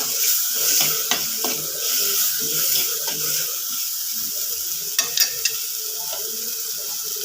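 Masala and turmeric powder stirred in a sizzling frying pan for prawn theeyal, a close steady hiss broken by a few sharp spoon knocks and scrapes, no speech over it.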